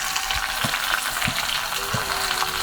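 Oil tempering in a pan with mustard seeds, cumin and dried red chillies, a steady close sizzle with crackling pops and a few stirring scrapes, no talk.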